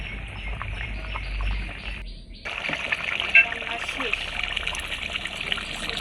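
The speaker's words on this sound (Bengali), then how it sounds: "পরিমাণ মতো ঝোল দিয়ে দিলাম" Broth trickles and splashes into a pot of simmering beef curry in a home kitchen, a steady liquid pour with a brief pause midway, while voices murmur faintly in the background.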